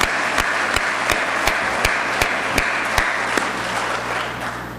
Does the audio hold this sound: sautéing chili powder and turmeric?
no